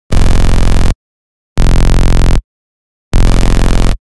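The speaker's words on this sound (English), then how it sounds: "I got a saw wave, then layered in a distorted sine wave that produces this phase cancellation beating effect, and threw some distortion on top of that" Dubstep drop bass built from a saw wave layered with a distorted sine wave and extra distortion, producing phase-cancellation beating; three loud, dense sustained bursts of under a second each, separated by short silences.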